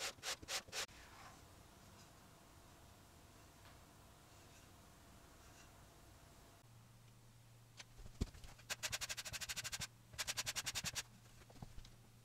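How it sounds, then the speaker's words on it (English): Sandpaper rubbed over a wooden artwork frame to clear burrs from the cut, with quiet scraping early on, then louder rhythmic bursts of strokes near the end. "Using sandpaper, remove burrs and,"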